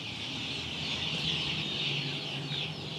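Golden Misri chickens cluck in cages in a continuous, noisy din of overlapping clucks with a steady hiss of farm background, with no pauses.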